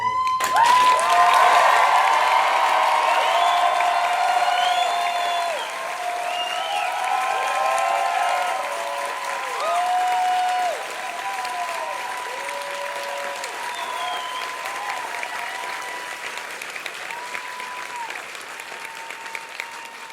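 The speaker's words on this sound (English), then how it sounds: "please, one huge round of applause once more" Large theatre audience applauding at the West End closing show of Benjamin Button, a sustained roar of clapping with some cheers and whoops, loudest early and gradually easing over twenty seconds.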